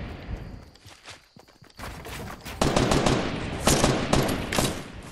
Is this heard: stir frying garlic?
no